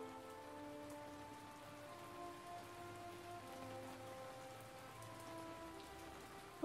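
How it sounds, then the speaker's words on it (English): Rain falls in the castle-building video game Castle Flipper, a soft, steady patter that holds evenly throughout, mixed quietly under sustained musical tones with no voices. "it's starting to rain."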